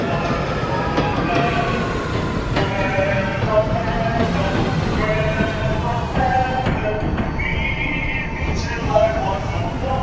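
A simulated R211T G subway train runs on the F local line toward Coney Island-Stillwell Avenue in the OpenBVE simulator, with steady rumbling motor and track noise throughout and tonal whines rising and falling.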